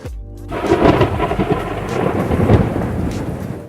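A thunderstorm with a loud rolling thunder rumble breaking in after a brief quiet start, followed by steady heavy rain hissing and pattering on surfaces throughout.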